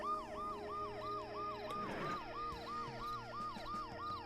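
A wailing ambulance siren in the video game Dead Synchronicity: Tomorrow Comes Today cycles up and down repeatedly at a steady rhythm, fairly faint, with a brief burst of noise partway through.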